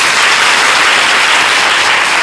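A congregation at a Malayalam community worship service bursts into applause, a dense, loud, steady wash of many hands clapping together, heard alone for a couple of seconds.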